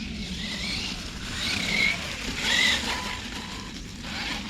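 A Losi LMT Grave Digger RC monster truck drives nearby, its electric motor whining steadily with rising and falling surges and mechanical gear chatter, no talking.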